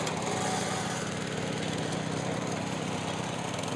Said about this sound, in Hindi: भारत का सबसे छोटा ट्रैक्टर, सबसे सस्ता ट्रैक्टर